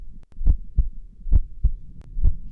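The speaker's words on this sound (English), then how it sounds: "So this is my vintage Roland R8 drum machine from the 80s." Vintage 1980s Roland R8 drum machine playing a beat: punchy low kick thumps and clicky hits in an even, repeating pattern, close and alone.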